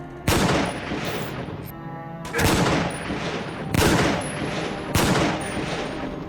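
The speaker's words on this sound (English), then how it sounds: "almost the exact same firing sound as the Black Ops 1 Dragunov" Sniper rifle shots in the 007 Quantum of Solace video game, four loud, close, booming cracks spaced about a second apart, each trailing into a reverberant roar with high metallic glints.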